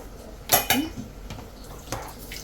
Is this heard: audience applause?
no